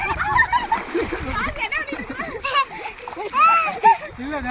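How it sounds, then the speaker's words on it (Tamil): Water splashes and sloshes nearby while children shout and chatter excitedly over it. "தண்ணி எல்லாம் வேகமா வருது"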